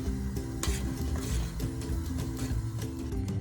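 Spoon stirring honey into milk and condensed milk in a pot, a steady scraping and swirling with soft clinks against the metal, close and moderately quiet, with a low background hum underneath.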